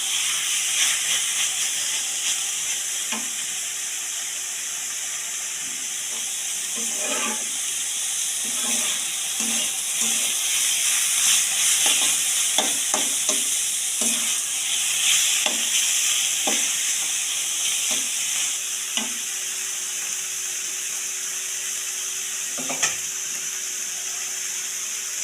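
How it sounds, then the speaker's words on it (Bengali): Spinach stir-fried in a pan, a steady loud sizzle and hiss running throughout with scattered scraping and stirring clicks of a utensil against the pan, no voices. "এখন এই যে ভেজে নিচ্ছি, নেড়ে চেড়ে ভেজে নিচ্ছি, একটু ভালো করে কড়া করে একটু ভেজে নিচ্ছি"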